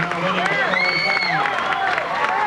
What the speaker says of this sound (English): And now listen to that appreciative crowd.